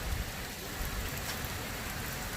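Steady rain from Tropical Storm Cristobal, a dense continuous hiss of drops hitting surfaces, evenly loud throughout with no talking.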